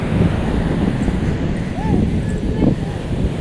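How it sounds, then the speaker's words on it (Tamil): Wind blows hard at the seashore as a steady, loud rushing roar of wind buffeting the microphone, with waves in the background and a brief faint voice. "காற்று நல்லா வீசுது"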